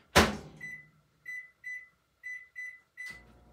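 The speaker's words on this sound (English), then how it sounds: "let's get that into the microwave" A microwave oven door thumps shut, then a series of short, sharp keypad beeps sound in an irregular rhythm, followed by another thud, close and clear.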